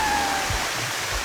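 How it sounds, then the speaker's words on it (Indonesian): Waterfall in Iceland, a steady broad rush of falling water heard at moderate distance, continuous with no voices over it. "Air terjun pertama."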